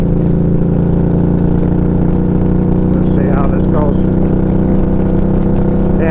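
An Indian Scout Sixty motorcycle engine drones steadily and loudly while the bike climbs a hill, a continuous, even hum with a faint voice briefly over it.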